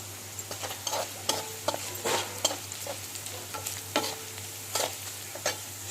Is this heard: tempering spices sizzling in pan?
yes